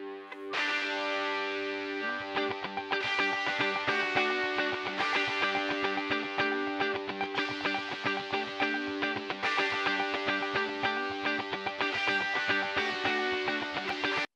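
An electric guitar played through a distortion drive effect strums sustained, gritty chords in a steady rhythm, loud and alone for the whole stretch.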